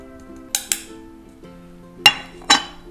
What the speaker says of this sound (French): je commence en fait par mélanger la poudre de curcuma